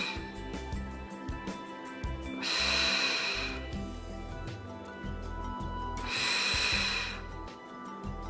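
Two long, loud breaths, each about a second, come close to the microphone during a pilates inner-thigh exercise in the first trimester of pregnancy, spaced a few seconds apart over soft steady background noise.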